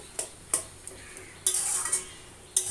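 A utensil stirs and turns chui greens for tok shak in a kadai, making several sharp metallic scrapes and clinks at irregular intervals over a faint, quiet sizzle.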